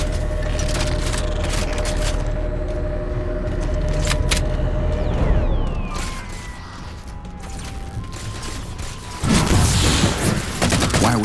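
Halo 4 gameplay aboard a gondola brings rapid bursts of gunfire layered over mechanical clanks and rumbling, with a louder crash of fire near the end.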